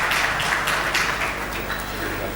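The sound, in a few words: audience applause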